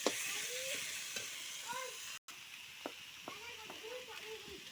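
Washed radish greens fry in a pan and get stirred, a soft sizzle with occasional scrapes and clinks, fairly quiet, with someone talking over it.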